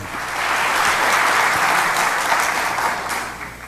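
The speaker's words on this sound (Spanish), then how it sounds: "Dense un aplauso." Dense applause from a church congregation, steady and fairly loud throughout before easing slightly at the end, with no talk over it.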